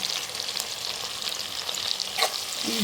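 Cumin and chilli spices hit hot oil with a close, continuous sizzle and crackle, with a few scraping stirs of a spoon in the pan and no voices.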